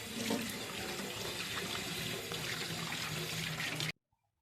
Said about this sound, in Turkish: Şöyle elimizi yıkayalım.